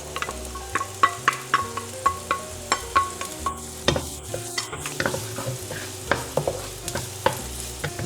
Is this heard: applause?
no